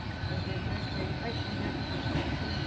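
Nine-carriage passenger train at a station platform at Great Malvern, a low steady rumble of rolling stock with faint wheel and rail noise, distant and quiet throughout.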